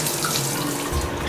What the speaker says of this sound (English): I hold them together like this, and then I pour off the water